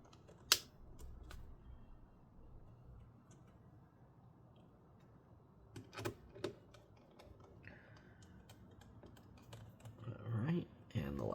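A small screwdriver works out the last screws of an MSI GS65 Stealth laptop, giving faint, scattered ticks and clicks with brief handling knocks, quiet and close.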